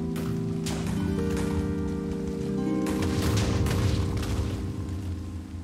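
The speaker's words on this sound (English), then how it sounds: "We have explosions." Explosions in the video game Minecraft, played with the All of Fabric 6 modpack: a dense, continuous stretch of booming blasts over a steady game backdrop, loud and sustained rather than one clean hit.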